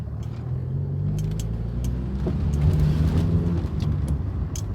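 A 1995 Fiat Tipo 1.6 engine droning while driving, a steady low rumble heard from inside the car with slight rises in pitch and faint clicks on top.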